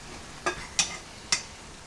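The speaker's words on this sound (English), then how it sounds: "Broccoli. You can hear it sizzling." Broccoli frying in a pan while a home cook prepares a meal of turkey necks and mac and cheese, giving three short crackling sizzle bursts over a faint steady background.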